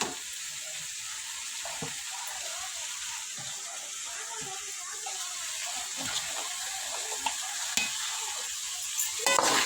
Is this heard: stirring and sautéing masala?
yes